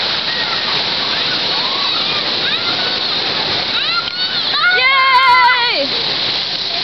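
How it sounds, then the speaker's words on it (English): Water splashes and rushes steadily at an amusement park's lazy river, a constant wash of spray, with excited high voices chattering over it and rising toward the end. "Oh my gosh, Lazy River!"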